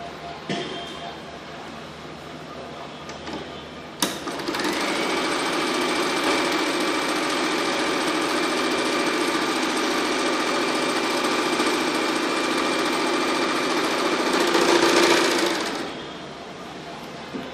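A sewing machine stitches a buttonhole strip across the edge of fabric, a loud continuous mechanical whir running for about ten seconds and then stopping, preceded by quieter handling.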